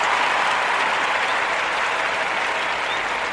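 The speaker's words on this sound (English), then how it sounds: "Yes, round of applause for you guys." An audience at an NBA basketball review show claps steadily in a dense, even burst of applause lasting a few seconds, heard without talking.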